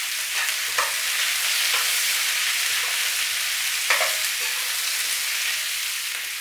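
Onions stir-frying and charring in a hot pan, a steady close sizzle with occasional scrapes and stirring knocks, no talking.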